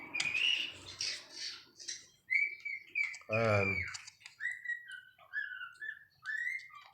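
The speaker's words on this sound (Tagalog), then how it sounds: "Ang ingay ng ibon ko ah." A pet bird lets out a loud, close squawk partway through, with shorter chirpy calls scattered around it while a person talks indoors.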